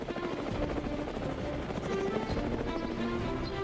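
Indian Air Force helicopter hovering over a small, confined supply drop zone in a remote part of Arunachal Pradesh, its rotor and engine giving a steady, loud, continuous throb throughout.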